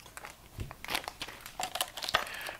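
Scissors cut through crinkly model airplane covering film on a Hangar 9 CAP 232 being recovered, giving a series of irregular close crinkles and sharp snips with no talk.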